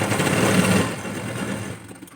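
A sewing machine runs steadily while stitching a strip onto a blouse, a close, continuous mechanical whir that eases off near the end.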